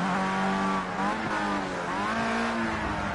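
A Formula Rookie open-wheel race car in Project Cars 2, its engine running hot, gives a loud, continuous high-revving whine that wavers slightly in pitch throughout.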